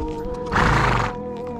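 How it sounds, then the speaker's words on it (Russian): A brown horse gives one loud neigh of about half a second, close by, over steady background noise. A faint thud of hooves may sound before it, and no voice is heard. "Какая она красивая лошадь."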